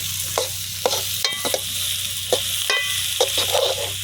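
Cashews and raisins fry in a hot pan of oil for a home-cooked prawn rice, with a steady sizzle broken by several scraping strokes of a spoon as they are stirred. No one speaks.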